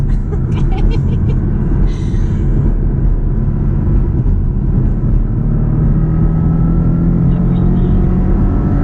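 A car engine builds revs as it overtakes on a bend, a steady loud low rumble with rising tones, close and continuous, with faint voices beneath.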